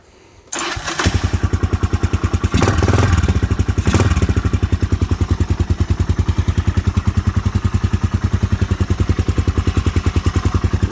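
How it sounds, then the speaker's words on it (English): A Honda FT500 motorcycle with an aftermarket knockoff Akrapovic exhaust cranks and fires up, then settles into a steady, loud, rapid idle that thumps on alone for about ten seconds. "So I'll do a little startup on the bike, just show you how easily this thing actually starts up."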